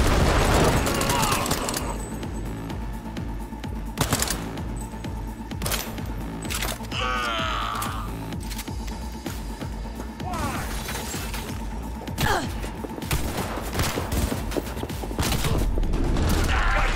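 Gunfire in Cyberpunk 2077, with repeated sharp shots and bursts scattered through a busy combat mix of crashes and mechanical clatter, loud and close, while a voice talks at moments.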